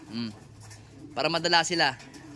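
Soft, throaty coos from breeder pigeons being fed ripple along close by, with a person speaking over them partway through.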